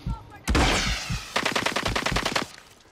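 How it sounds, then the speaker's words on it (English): Gunfire in Call of Duty: a sharp loud shot, then a rapid burst of automatic fire crackling for over a second, with faint voices in the background. "Oh, he's shooting me real shots."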